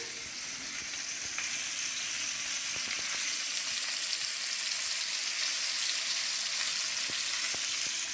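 Chicken wings fry in hot oil in a covered pan, a steady, dense sizzle and crackle that goes on evenly throughout, with scattered small pops and no speech.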